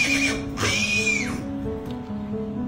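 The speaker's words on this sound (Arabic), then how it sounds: "سامعين الصويت بتاع بنتها قلقانة عليها ازاي" A foal whinnies loudly and close for its paralyzed mare mother, a rising then falling neigh, followed by softer horse sounds and a little background noise.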